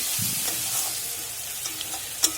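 Spices and taro sizzle in hot oil in a pan for a Bengali fish curry. A steady close frying hiss is broken by a few light stirring scrapes and a sharp clink near the end.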